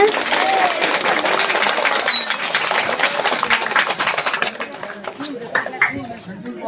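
A crowd claps together at a temple ceremony of the Sri Rajarajeshwari Devi Jnanapeetham in Peramana, honouring the peetadhipathi. Dense, steady clapping fills most of the clip, thinning toward the end, with voices mixed in.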